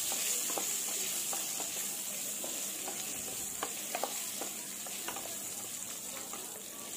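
Pointed gourd (potol) fries with salt and turmeric in a pan, a low continuous sizzle with scattered soft scraping and stirring clicks, fairly quiet and without speech.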